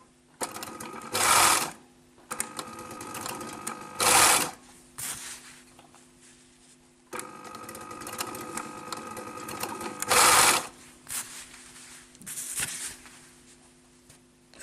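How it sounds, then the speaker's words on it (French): A sewing machine topstitches fabric in repeated runs, a steady close mechanical whirring punctuated by louder bursts, with pauses between passes. "on va surpiquer, et un point là pour arrêter. On y va."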